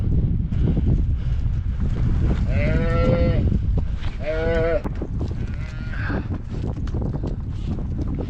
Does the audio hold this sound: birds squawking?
no